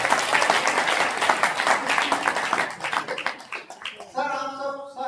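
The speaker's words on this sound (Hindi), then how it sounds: "एक बार डॉक्टर साहब के सम्मान में जोरदार तालियां" Loud audience applause at a Hindi kavi sammelan poetry gathering, dense clapping sustained for several seconds before thinning out, with a voice starting up at the very end.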